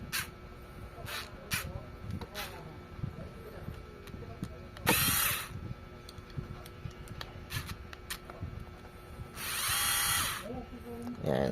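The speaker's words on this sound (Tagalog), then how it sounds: "ito mayroon pa sa isang power tool" Bursts of a handheld power tool whirring on a bicycle during torque wrench work, two longer loud runs among shorter clicks and ticks, with a person talking nearby.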